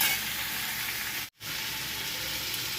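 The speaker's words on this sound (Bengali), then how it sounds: "জিরে গুঁড়ো আর এর উপরে শুকিয়ে গাঁদা পাতা দিয়েছি এখন এটা কষাবো" Shrimp and pointed gourd sauté with cumin powder in a pan, a steady close hissing sizzle broken by one brief silent gap midway, with no speech.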